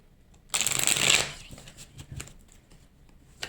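A deck of tarot cards is shuffled up close, giving a loud riffling burst that fades into lighter flicking and tapping of cards, with no speech.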